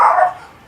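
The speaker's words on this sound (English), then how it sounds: "it's the neighbor's dog" A neighbor's dog lets out one loud, close bark that quickly fades into a short tail, with no talking over it.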